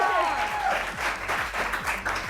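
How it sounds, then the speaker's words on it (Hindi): Applause from a studio audience on a morning TV show, dense steady clapping throughout with a faint voice or tone briefly over the start. "ये लीना के लिए तालियां।"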